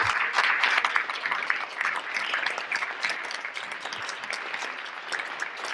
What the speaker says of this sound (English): let's give you a round of applause for your support